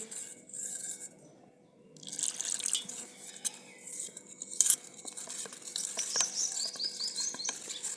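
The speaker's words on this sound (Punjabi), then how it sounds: "ਹੁਣ ਆਪਾਂ ਪਾਣੀ ਹੋਰ ਪਾਵਾਂਗੇ" Water splashes and patters into a metal pot for Punjabi kadhi, with scattered clinks and drips over a steady running pour.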